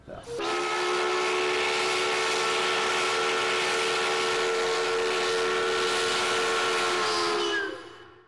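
Historic Olympia Brewing Company steam whistle at Tumwater Falls, one long sustained chord-like blast with breathy hiss, loud and alone, tailing off after about seven seconds.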